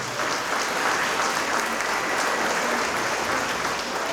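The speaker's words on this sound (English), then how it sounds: "let's give them all a round of applause for everything that they do day in and day out" Sustained, even applause from a chamber of commerce annual gala audience, a steady wash of many hands clapping at moderate distance for the whole stretch.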